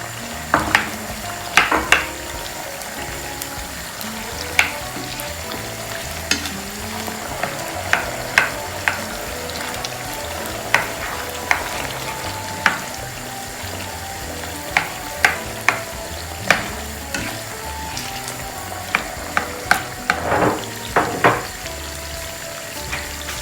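Potatoes and onions fry for a Spanish tortilla in a pan, giving a steady sizzle broken by frequent sharp clicks and scrapes as a utensil stirs, close and moderately loud with no talking.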